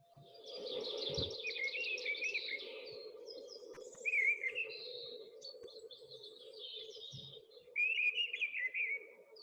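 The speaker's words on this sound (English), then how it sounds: "usually a mistle thrush" Mistle thrush singing in a dawn chorus, loud clear fluted phrases repeated in short bursts with pauses, over a steady low background hum and other faint birds.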